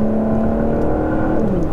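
Exhaust of a Volvo V60 Polestar with an inline six and valves open, a steady loud droning rasp held for a brief moment, close by.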